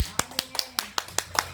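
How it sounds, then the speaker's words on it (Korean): Applause from a church congregation during a sermon, with sharp, roughly evenly spaced bursts about every fifth of a second, sounding like a few people clapping in rhythm close by. "하나님께 영광의 박수."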